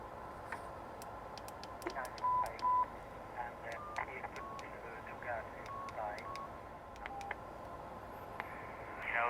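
Keypad beeps sound as a frequency is keyed into a HYS TG-G25W manpack ham radio, a string of short, separate tones at an uneven pace, fairly close and quiet over low room noise, with no speech.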